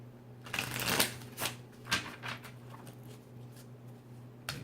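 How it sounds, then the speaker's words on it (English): A deck of cards is shuffled for a tarot reading, with soft riffling bursts and light flicks at an irregular pace, quiet and close, and no talking. "One more shuffle and we're gonna do y'all."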